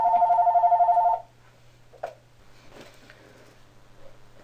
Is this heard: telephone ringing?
yes